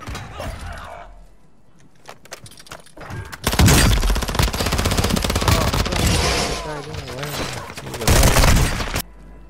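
Gunfire in a Warzone 2 Resurgence squads match: loud, dense bursts of shots and booms, heavy from about 3.5 to 7 seconds and again near 8.5 seconds, with in-game voices and sounds underneath.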